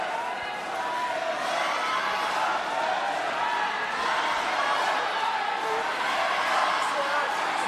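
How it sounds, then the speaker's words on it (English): A large arena crowd at the 2022 Asian Games women's singles badminton final chants Chen Yufei's name, a steady, loud, dense roar of many voices that holds throughout with no individual talk standing out. "You can hear the crowd chanting Chen Yufei's name."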